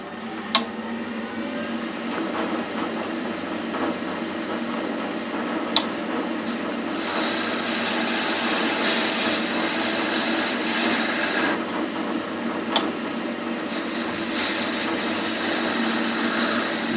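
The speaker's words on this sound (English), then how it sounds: "Using a square carbide for this, so I can get a nice flat bottom." Woodturning with a square carbide tool on a wooden pen stand, a steady scraping hiss of the cutter against spinning wood with a constant lathe whine, rising slightly partway through, with a few faint clicks.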